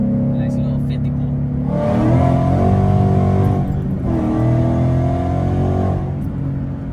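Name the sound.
Ford Mustang S197 accelerating hard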